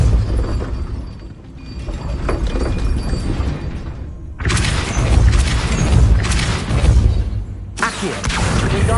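A Depulso spell striking in Hogwarts Legacy, with loud booming, shattering impacts that cut in abruptly over a dense rumbling game soundscape.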